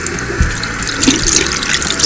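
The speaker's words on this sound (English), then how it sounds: "Let's wash our pitahaya." Water runs steadily from a toy kitchen sink tap over fruit being washed, a close, continuous splashing stream with no talking.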